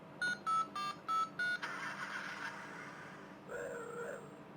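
A Knight Rider and Transformers combination toy car plays its electronic light-up sound effects: five quick identical beeps, then a buzzy synthetic swell and a wavering electronic tone, close and fairly loud.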